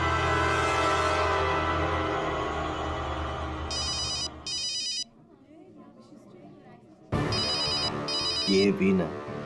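A telephone rings in a crime drama scene, bursts of electronic ringtone repeating over a loud dramatic music score, with a quieter gap in the middle before the ringing and music surge back.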